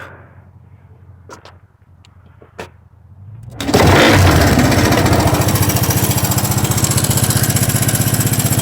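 A rebuilt Honda 185s motorcycle engine fires up after a few faint clicks and then runs at a loud, steady idle with a rapid pulsing putter, close by.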